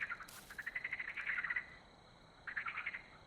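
Rhythmic, trilling croaks from frogs in a horror video game forest, a long run of pulses followed by a shorter burst after a pause, moderately faint over a quiet background.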